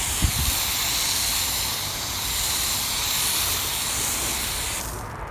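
A foam cannon sprays car wash shampoo onto a car in a steady, close, loud hiss that continues without a break and cuts off abruptly near the end.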